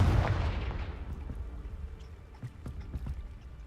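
Fiery Confringo spell blasts in the Hogwarts Legacy video game: a booming explosion opens and then decays into a rumbling tail, with a few scattered impact pops afterward.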